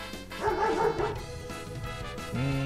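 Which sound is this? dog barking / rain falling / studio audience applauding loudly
dog barking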